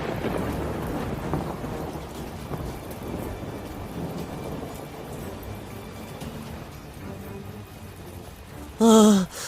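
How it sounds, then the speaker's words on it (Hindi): Steady heavy rain pours alongside low rumbling thunder throughout, with a short burst of speech-like sound near the very end. "ऊपर से ये बारिश, पता नहीं कब तक रुकेगी।"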